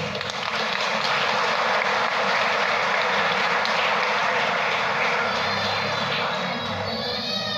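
A church congregation applauds in a dense, steady roar of clapping that fills the whole stretch at strong volume, with a few voices surfacing toward the end.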